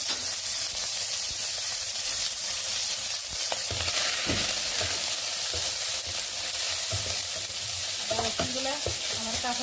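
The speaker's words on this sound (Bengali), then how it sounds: "এখন এখানে আমি আদা রসুন দিয়ে দিব কাঁচা গন্ধটা যাওয়ার জন্য" Ginger and garlic paste sizzling steadily in hot oil in a pan, a continuous loud hiss broken by occasional scraping stirs from a spoon, with no voices.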